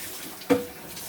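Water wrung from grated cassava through a fine straining bag, a single brief wet splash and trickle against faint room background.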